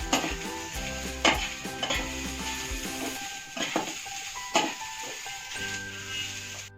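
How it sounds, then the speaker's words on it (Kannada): Grated coconut fries in a pan while a utensil stirs it, giving soft sizzling with intermittent scraping and clinking, fairly quiet and close, with no voices. "ಕಾಯಿ ನೀಟಾಗಿ ಫ್ರೈ ಮಾಡ್ಕೊತೀನಿ"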